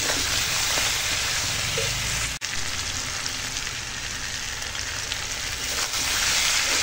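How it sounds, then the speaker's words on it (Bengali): Pumpkin and mixed vegetables sautéing in a pan with mustard paste, salt, turmeric and chilli powder, a steady close crackling sizzle running throughout with one brief dropout midway, no talking. "তো এখন মশলার সঙ্গে আনাজটা ভালো করে কষিয়ে নেব।"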